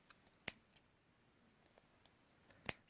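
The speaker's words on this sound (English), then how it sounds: "small scissors, preferably embroidery scissors, work really well for this. And you're just cutting all these threads" Small embroidery scissors snip through yarn threads for a pom pom, two sharp close cuts about two seconds apart, faint and without talk.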